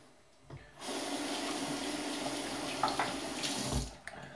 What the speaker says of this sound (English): just going to rinse off real quick